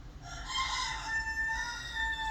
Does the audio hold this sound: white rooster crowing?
yes